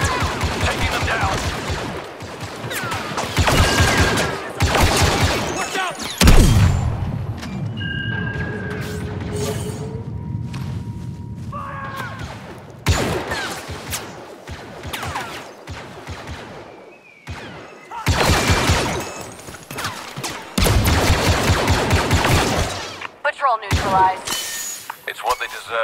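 Blaster gunfire in Star Wars Battlefront II, loud repeated bursts of rapid shots in several volleys over about 26 seconds, mixed with crashes and impacts while voices talk between and over the firing.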